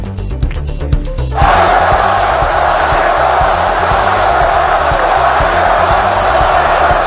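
Large Trump rally crowd chanting and roaring, a loud dense wall of massed voices that swells sharply after a brief stretch of rhythmic cheering under a speaking voice.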